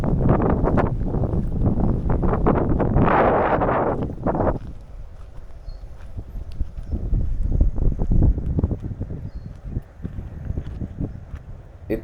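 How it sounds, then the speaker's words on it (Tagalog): Strong wind sweeps across a grassy hilltop in Quezon, rumbling and buffeting the microphone in heavy, uneven gusts that ease off midway and then build again. "Lakas ng hangin."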